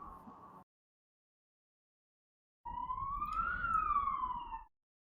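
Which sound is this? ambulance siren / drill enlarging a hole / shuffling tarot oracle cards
ambulance siren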